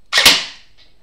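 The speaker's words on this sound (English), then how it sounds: "So it's in single fire. So it should fire one shot, right?" A single close, crisp shot from a toy blaster set to single fire, a sharp snap with a short decaying tail and a faint click just after.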